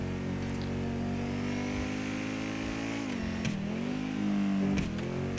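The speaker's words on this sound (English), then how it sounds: "This is an awesome supercar" A supercar engine in GTA 5 Online drones steadily at a fairly even pitch, dipping and climbing twice near the end as the throttle shifts, loud and alone with no talk.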